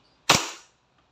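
A single sharp report from a WE 2011 Hi-Capa T-REX semi-automatic airsoft pistol, loud and close, with a short decaying tail and no talk.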